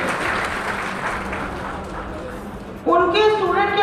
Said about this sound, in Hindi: एक बार जोरदार तालियां मिस्टर एसपी वर्मा।